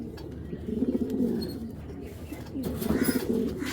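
A pair of grizzle racer pigeons coo softly nearby in repeated throaty bursts, with two clear rounds of cooing separated by a quieter pause and no talking.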